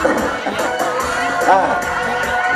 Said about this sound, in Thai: คนเชียร์ก็สนุก